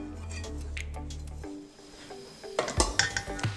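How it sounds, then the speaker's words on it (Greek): Grated feta and finely chopped kasseri cheese being stirred together in a bowl for a Greek meze, heard as soft squishing and light clinks of a utensil against the bowl after a low steady hum fades out. "Ανακατεύουμε καλά όλα μας τα υλικά."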